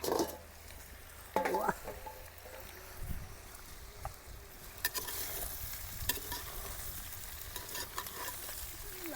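Bamboo shoots are stirred in a pan with ginger-garlic paste to come, a spoon scraping and knocking against the metal over a soft, continuous sizzle, with a few sharper clatters.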